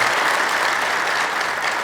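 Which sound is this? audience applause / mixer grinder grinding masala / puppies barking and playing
audience applause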